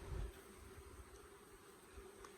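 Low steady buzzing of an enormous colony of nurse bees, heard up close as a continuous hum with a warm low drone, no voices over it.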